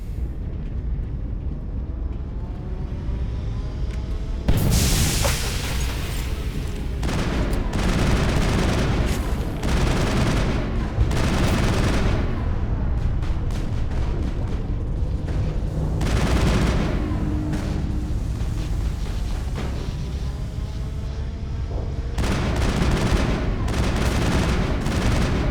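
Dense gunfire and heavy explosions, including a rocket blast, roar through a Mass Effect 1 firefight, with bursts of shots and booming impacts layered continuously and loud almost throughout.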